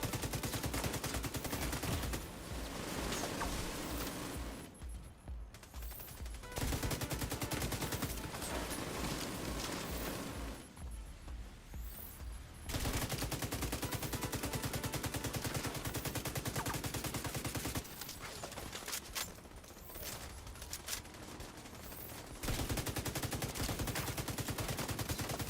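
Turret gunfire in The Division 2, sustained heavy automatic bursts lasting several seconds each, broken by short pauses, loud and dense throughout.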